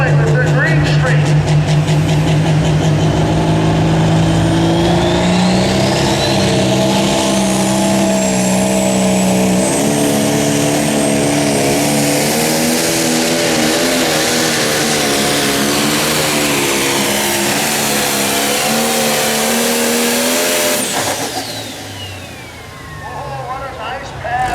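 A newly built pulling tractor roars at full power along the track during a tractor and truck pull, its loud engine rising and holding through a long pass before easing off, with an announcer talking over it.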